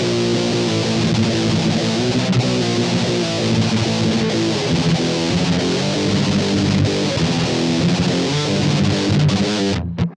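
Electric guitar played through a Digitech Death Metal, EHX Metal Muff or Boss DS-1 style distortion pedal, giving heavy thrash tones: dense, saturated chugging riffs sustained loud and continuous, ending abruptly.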